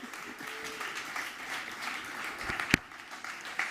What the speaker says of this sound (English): And with this flip-flops and this huge applause, please welcome the master, Javier Mejías.